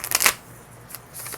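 Tarot cards riffled in a quick shuffle, a close, crisp burst of flapping paper up front, then quieter soft slides and a brief final flutter near the end.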